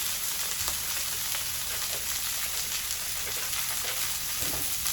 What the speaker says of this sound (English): I'm going to go ahead and place my butter in